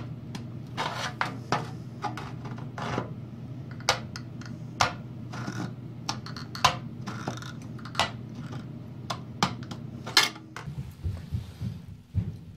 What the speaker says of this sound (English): We're going to just cut right to the top of that stiffener rib.